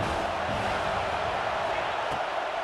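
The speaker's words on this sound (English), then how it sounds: "This crowd bringing the energy and noise early." Stadium crowd in EA Sports College Football 26 during an Ohio State dynasty game, a dense steady roar of cheering spectators at constant loudness, washing continuously through the scene with no distinct commentary over it.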